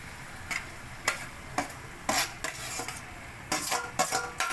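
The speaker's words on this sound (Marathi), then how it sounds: "आता वांगा टाकून घेऊया" Brinjal goes into a pan and is stirred, with a series of sharp metal spoon scrapes and clanks against the pan at an irregular rhythm, close up, over a faint sizzle.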